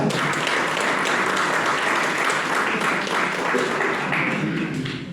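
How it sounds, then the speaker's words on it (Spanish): Audience applause at a traditional Asturian tonada song festival, a dense, steady wash of clapping from a full hall lasting several seconds at strong level. "Aplauso grande, Águeda Riera."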